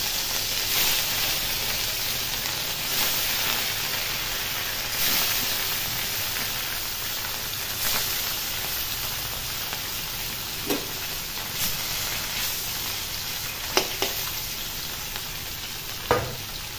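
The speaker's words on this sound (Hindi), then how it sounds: "तेल गरम हो गया है, अभी मैं इसमें मछली डाल देती हूँ।" Fish frying in hot oil, a continuous dense sizzle and hiss close by, with a few soft clinks and bumps of a utensil against the pan, no talking.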